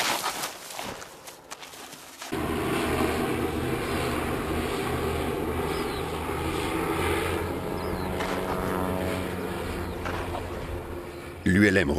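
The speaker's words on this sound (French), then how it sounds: "L'ULM revient, il faut maintenant aller chercher le rapace." An ultralight aircraft engine drones steadily and fairly loudly for several seconds, close and continuous, after a short stretch of rustling outdoor noise, with a voice talking over it.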